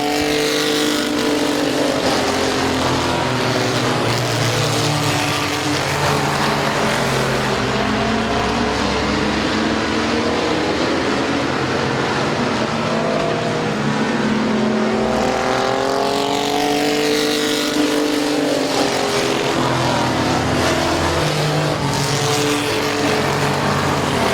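Stock race cars roar around Midvale Speedway, a continuous loud pack of engines with rising and falling pitch as cars pass close by, no voices heard.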